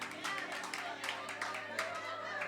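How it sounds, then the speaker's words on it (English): A roomful of listeners at a community peace-and-love talk gives a soft round of applause, a steady patter of many hands that sounds faint and distant. "Give yourself a round of applause."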